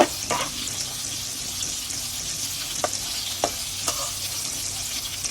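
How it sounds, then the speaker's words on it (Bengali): Golda shrimp crackle and sizzle in very hot oil, a steady frying hiss broken by a few sharp clicks and scrapes as the pieces are flipped. "সবগুলো চিংড়ি মাছ দিয়ে দিলাম এখন আমি উল্টিয়ে দিব যেহেতু আমি হালকা করে ভেজে নিব"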